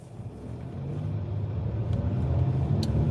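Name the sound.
car driving on the road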